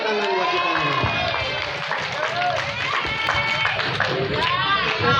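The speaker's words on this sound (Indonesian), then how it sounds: "Tepuk tangan buat kita." Audience at a junior high school graduation ceremony applauding, a dense, continuous clatter of many hands filling the hall, with cheers and chatter mixed in.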